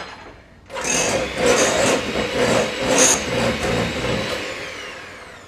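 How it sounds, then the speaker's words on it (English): Electric hand blender whirring steadily through butter and caster sugar in a mixing bowl, starting abruptly after a short quiet lead-in and running continuously, loud and close, with slight rises and dips in pitch. "I'm going to mix them up in the bowl with the hand blender"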